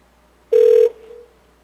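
A telephone ringback tone during an outgoing call: a single steady electronic tone lasting about a third of a second, then a fainter echo of it, with quiet line hiss on either side.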